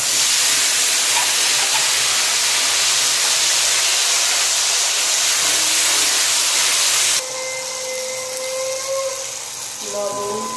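Grated onion, ginger, garlic and green chilli hit a hot pan with a loud, sustained hissing sizzle that drops abruptly quieter near the end, with faint tonal sounds coming through afterward.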